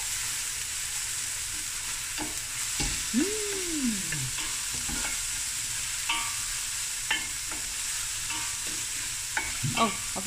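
Onion and garlic frying in a couple of tablespoons of oil in a pot give a continuous close sizzle, with occasional stirring clicks and scrapes, for a stew of tomato and ox trotters.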